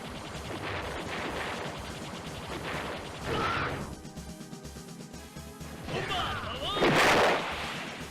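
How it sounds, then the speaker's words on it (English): Loud explosions in the arcade shoot-'em-up Gunbird boom and crash with whooshing debris, two big blasts separated by a rumbling lull, mixed with excited voices. "Oh god, that was a loud explosion."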